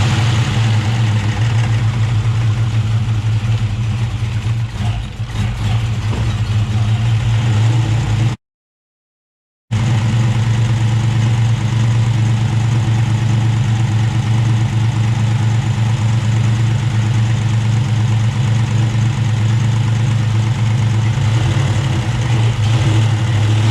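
A 1999 Ford Mustang GT V8 idles steadily after start-up, a loud, continuous low rumble with even vibration, broken once by a brief gap before the same idle resumes.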